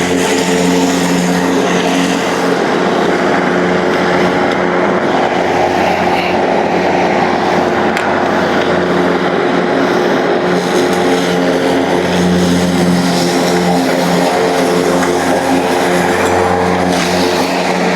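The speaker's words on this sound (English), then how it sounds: "we're gonna go ahead and actually cut this little patch of grass to start" A Stihl RMA 453 PV battery lawn mower, running self-propelled without boost mode, cuts a small patch of grass with a steady, continuous motor-and-blade hum held at an even loudness throughout.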